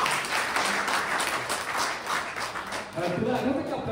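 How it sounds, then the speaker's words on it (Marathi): A live audience claps in a sustained burst that stays steady throughout, with talking mixed in underneath it. "त्यांच्यासाठी जोरदार टाळ्या झाल्या पाहिजे"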